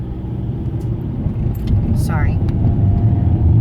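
Steady low rumble of a car engine heard from inside while driving, continuous and fairly loud, with a voice briefly speaking over it.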